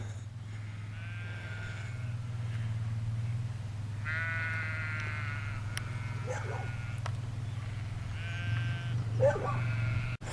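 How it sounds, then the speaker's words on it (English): Sheep bleat several times at a distance in the Cumbrian countryside near Dufton, wavering calls spaced out over a constant low rumble. "Sheep are coming"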